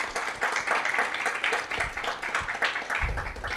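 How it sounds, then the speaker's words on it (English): Close, lively clapping from a modest audience at an honor society induction ceremony, uneven bursts of hands with a low thump near the end. "So give a round of applause for all of our newly inducted."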